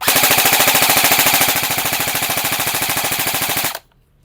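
E&C 102 HK416 airsoft rifle firing a single full-auto burst of about three and a half seconds, a loud close rapid mechanical chatter at a steady rate that stops abruptly.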